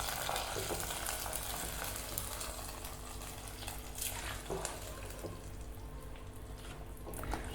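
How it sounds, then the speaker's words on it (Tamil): Cooked ven pongal being stirred together with a fried cashew tempering in a pan, heard as a soft continuous sizzle with wet stirring and scraping sounds, fairly faint and close. "இப்போ அடுப்பை ஆஃப் பண்ணிவிட்டு வெண்பொங்கல் எடுத்து கொட்டிடலாம். எல்லாம் சேர்த்து நல்லா மிக்ஸ் பண்ணி விடுங்க."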